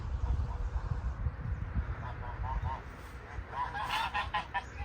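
Several ducks honk and call in short bursts, rising toward the end, over low rustling and ambient noise.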